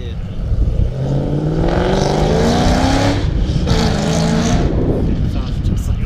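Chevrolet Camaro engine exhaust revving hard several times, rising and falling in pitch with a loud, close, throaty roar, while people talk nearby.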